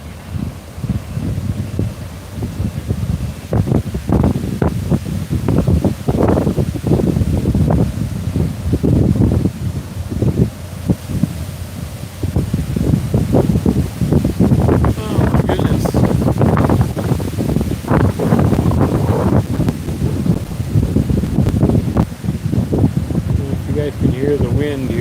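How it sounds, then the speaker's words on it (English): Strong wind buffets an outdoor bird nest camera's microphone in gusty, rumbling surges that continue for the whole stretch, with people talking at times over it. "You guys can hear the wind here"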